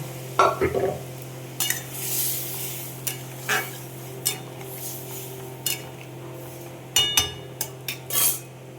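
Cooked dal is tipped into a pot for a sour mango dal, bringing scattered clinks and scrapes of a spoon against metal over a soft steady hum, with a few sharper knocks near the end.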